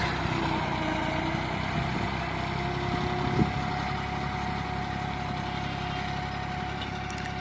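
A tractor drags a laser leveler across a farm field, its engine holding a steady, throbbing drone at close range with a faint knock partway through.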